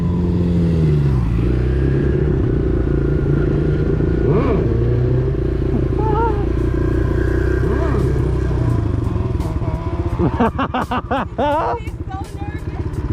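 A sport motorcycle idles and rumbles loudly and steadily up close, with a burst of revving near the end, while people talk in the background.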